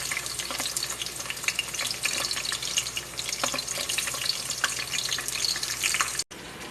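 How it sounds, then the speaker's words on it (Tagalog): Onions frying in hot oil, a busy crackling sizzle with watery spatters heard close and continuous, briefly cutting out just before the end. "lagay muna natin yung sibuyas."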